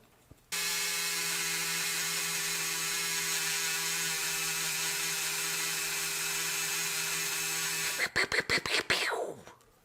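A machine polisher working 3M polish into car paint drones steadily and evenly for several seconds, then ends with a few sharp, sputtering bursts as it winds down.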